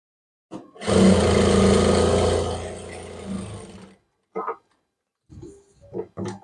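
Domestic sewing machine stitching an umbrella frock, a loud continuous run of about three seconds that tapers off, followed by a few short bursts of handling noise.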